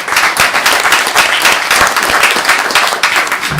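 Enthusiastic applause from a city council meeting audience, a dense, steady patter of many hands clapping at once with no pause.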